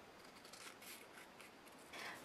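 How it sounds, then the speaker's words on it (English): Scissors trimming paper for a stamped bookmark craft: a quiet, close series of soft snipping and rubbing cuts, faint and alone. "And then I'll take my scissors and just trim that down."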